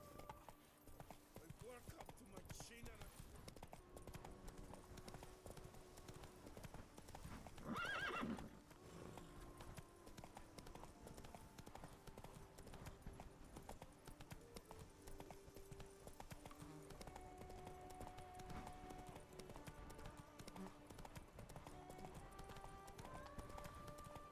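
Roach, the horse in The Witcher 3, gallops with steady rapid hoof clip-clops and a brief whinny partway through, under continuous game music and ambience.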